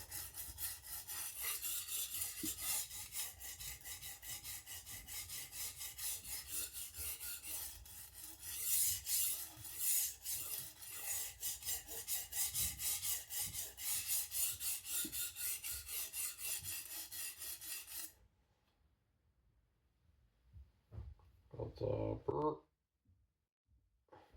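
A knife is sharpened dry on an Atoma diamond plate at about a 15-degree angle with light pressure, a steady close rasping scrape in long repeated strokes for most of the time, ending abruptly, followed by a brief quiet handling noise.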